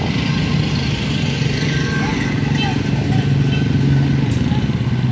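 Honda CRF 150L motorcycle engine running close by, a steady low mechanical hum that continues throughout while a person speaks over it.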